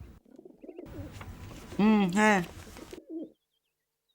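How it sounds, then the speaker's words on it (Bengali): A dove coos somewhere close by in two rounded, resonant calls midway through, with brief speech just before and after. "কোথাও একটা ঘুঘু ডাকছে।"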